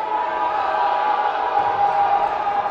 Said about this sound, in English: The Atlantis crowd making some noise now